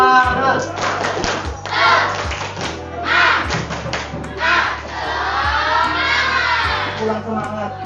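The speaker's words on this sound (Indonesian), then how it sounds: "2, 1, tepuk semangat" Schoolchildren in a school setting perform the tepuk semangat spirit clap chant, loud group voices chanting in bursts with rhythmic claps and thumps, close and lively, a constant low hum underneath.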